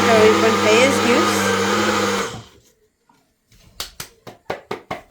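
A kitchen mixer grinder whirs loudly while grinding masala spices, a steady motor drone that cuts off after about two seconds, followed by a series of sharp rhythmic taps or knocks.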